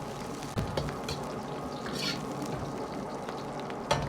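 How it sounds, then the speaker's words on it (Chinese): Ginger and scallions stir-fry in hot vegetable oil in a wok, a steady low sizzle with occasional scraping stirs and soft clinks, close and continuous. "油热后下入姜葱，先煸炒出香味"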